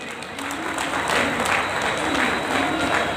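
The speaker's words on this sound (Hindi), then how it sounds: "एक बार बाबा साहब के लिए जोरदार तालियां साथियों।" Sustained applause from a crowd at a Dr. Ambedkar birth anniversary celebration in Delhi, steady and loud throughout, with dense overlapping claps and no pauses.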